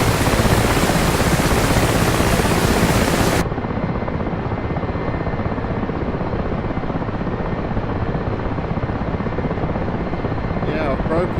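A helicopter engine in the DCS flight simulator game whines and roars steadily and loudly. The sound thins abruptly partway through and continues as a duller, constant drone.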